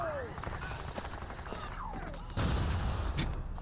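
In the Xbox game Deus Ex: Invisible War, an explosion destroys a bot: a sudden broad blast past the midpoint that lingers as a rumbling roar over busy game ambience.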